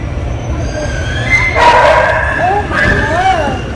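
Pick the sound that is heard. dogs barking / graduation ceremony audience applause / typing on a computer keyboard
dogs barking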